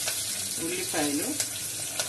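Onions frying in a pan with curry leaves for bombai chutney, giving a steady soft sizzle, with occasional scraping clicks as they are stirred; a faint voice is heard in the background.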